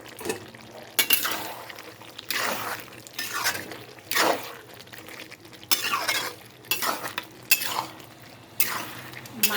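Chicken fries in a pan with cumin and coriander powder while a utensil stirs and scrapes in repeated bursts, a soft sizzle running underneath between the louder clatters.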